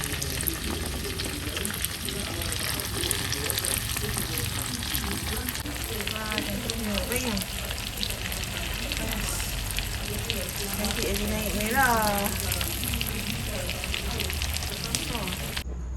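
Steady loud sizzling of food frying in a wok, continuous throughout, with occasional scraping and stirring and faint voices in the background.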